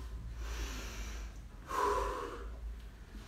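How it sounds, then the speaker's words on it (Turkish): Heavy breathing during a home exercise workout, a few loud exhales and a sharp gasping breath up close, with no speech. "Nefes alıp vermeyi unutma."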